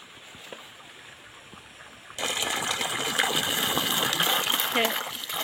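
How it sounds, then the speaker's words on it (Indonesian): Plentiful water from the mountains flows in a village during rain. A faint background gives way abruptly to a loud, steady broadband rush that stays constant and close. "Masya Allah, airnya teh sahabat begitu melimpah. Ini sepertinya airnya langsung dari gunung"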